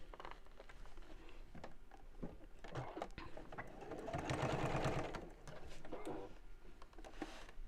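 A sewing machine stitching binding onto a fabric bowling bag, running in a steady close whirring chatter that speeds up and grows louder in the middle before easing, with no talking.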